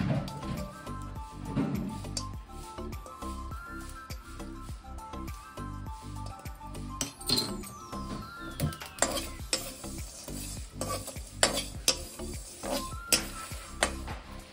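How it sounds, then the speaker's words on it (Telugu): Coconut pieces, peanuts, coriander seeds, fenugreek, shahi jeera, cardamom and cloves are dry-roasted in a pan, with a spatula stirring and scraping in frequent clinks and rustles over a light, steady sizzle. "కొబ్బరి ముక్కలు, ఇంకా పల్లీలు, ధనియాలు, కొన్ని మెంతులు, సాజీరా, ఇలాచి, లవంగా ఇవన్నీ వేసుకొని మంచిగా దూరగా వేయించుకోవాలి"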